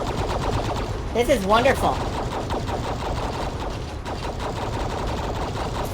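Rapid, continuous video-game gunfire comes from a four-armed enemy, a steady rattling burst that runs throughout while a voice speaks briefly over it.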